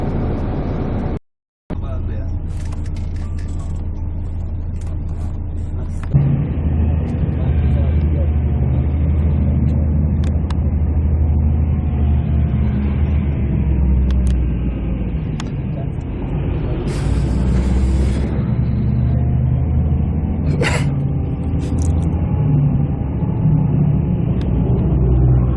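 A bus creeps slowly along a road through a Costa Rican national park, its engine rumbling low and steady with a brief air-brake hiss, heard from inside the cabin under light chatter.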